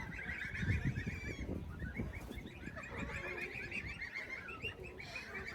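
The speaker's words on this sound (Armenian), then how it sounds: "Այդ հապարտ կանգնած ակլորն էր ծուղրուղու անում" A rooster crows amid a steady chorus of nearby poultry calls and clucking on a rural land plot, with the bird sounds continuous and fairly close throughout and no talking.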